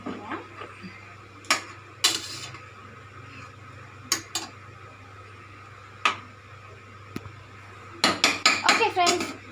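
Tomato rice stirred in a pot, with a few sharp metal spoon clanks spread through the clip and a quick burst of clanking near the end, over a steady background hum and some talking.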